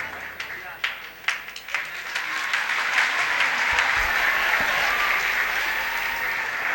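An audience claps to welcome a songwriter at an institution's event, starting with a few single claps that swell into sustained, dense applause, moderately loud and steady.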